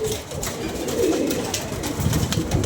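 Pigeons kept by a pigeon fancier: soft, low cooing murmurs from birds close by, continuous over a background hum, with no clear talking.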